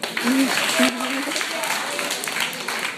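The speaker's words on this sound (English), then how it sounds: "Let's give him a round of applause." Applause follows a call to cheer a student at an inspirational talk, the crowd clapping steadily while a speaker's voice and some laughter carry over it.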